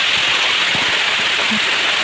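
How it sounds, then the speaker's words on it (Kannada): Heavy rain with strong wind in Belthangady, a dense continuous hiss of downpour pounding surfaces, loud and steady throughout with no voices. "ಅಷ್ಟು ಜೋರು ಮಳೆ ಉದಸ್ತಿನ ಆಗ್ತಿದೆ"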